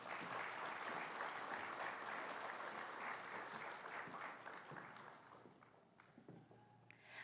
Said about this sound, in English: Please welcome him with some applause.